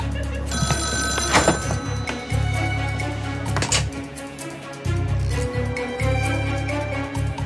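A telephone rings with repeated bright electronic trills, loud and close, interrupted by a few soft thuds and brief gaps between bursts.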